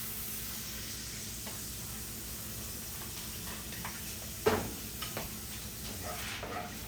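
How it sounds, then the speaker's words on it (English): Steady sizzling hiss of a hot pan as heavy cream is poured in, with a brief louder splash and bubbling burst midway, continuous and close with no talking. "now I'm going to add some heavy cream"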